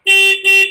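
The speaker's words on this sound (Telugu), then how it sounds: "ఇది సింగిల్ హారన్ సౌండ్ నార్మల్ సింగిల్గా వస్తుంటుంది." Two short, loud single-horn beeps from a Pulsar N160 motorcycle in quick succession, a bright electric toot with a brief gap between them.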